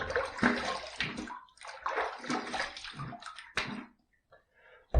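A shaving brush is rinsed under running water, giving close, uneven splashing and sloshing in bursts that cut out near the end.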